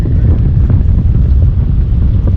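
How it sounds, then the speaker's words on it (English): Strong wind buffets the microphone on a fishing boat during bream fishing over deep brush, a loud continuous low roar and rumble with no talking. "Oh, that wind's whipping."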